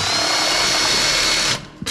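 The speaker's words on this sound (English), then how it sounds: "And screw the hanger in." A power drill drives screws into a metal joist hanger on new floor framing, giving a loud steady whir up close for about a second and a half before it cuts off, then a brief final burst.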